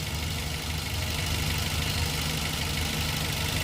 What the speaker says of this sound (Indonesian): Nih, mesinnya teman-teman sudah dengerin, halus banget, nggak ngelitik